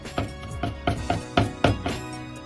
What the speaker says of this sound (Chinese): 接着来准备生姜一块，先拍破，再剁碎。